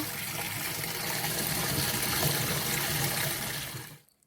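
Eom-namu shoots, the spring shoots of the prickly castor-oil tree, are washed in a bowl of water, making a continuous close sloshing and splashing that fades out abruptly at the end, with no voices.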